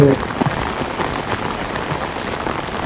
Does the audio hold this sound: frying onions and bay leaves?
no